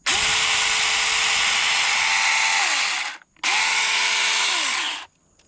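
A battery-powered Seesii pruning chainsaw runs at full speed in two bursts, a loud, close high-pitched whine that spins up, holds steady for a few seconds, then winds down, briefly stops and revs again before cutting off.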